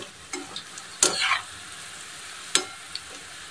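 Taro leaf fritters frying in oil over a low gas flame, a quiet bubbling sizzle broken by a few sharp splashes and clatters as they are turned, close by and without talk.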